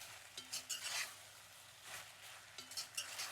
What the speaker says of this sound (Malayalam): ഇനി ഈ ചിക്കനിലോട്ട് ഈ സോസസൊക്കെ നന്നായിട്ടൊന്ന് പിടിക്കുന്നവരെ മിക്സ് ചെയ്ത് കൊടുക്കാം.